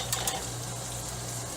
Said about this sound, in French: On cuisine le bacon à la bière.